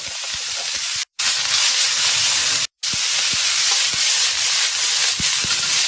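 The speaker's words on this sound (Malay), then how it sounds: "kita orang dengar bunyi macam orang tengah masak-masak tau kat dapur" Kitchen frying sounds: a continuous, loud sizzle and hiss with small clicks of stirring, broken by two brief silences, with no talking.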